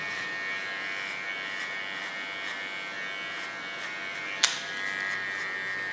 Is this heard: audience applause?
no